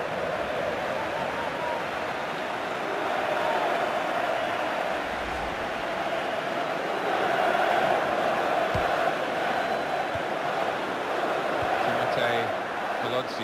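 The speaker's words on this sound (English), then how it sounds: "the crowd are going mad at him" A football video game stadium crowd reacts to a missed shot with a dense, continuous roar that swells slightly in the middle and stays loud throughout.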